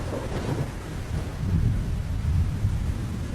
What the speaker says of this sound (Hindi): ये अचानक बारिश कैसे शुरू हो गई?